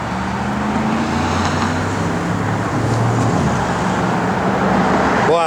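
A 1972 Ford Gran Torino Sport rolls along a road with a steady, continuous engine drone and broad tire and road roar throughout, the low rumble holding even and fairly close.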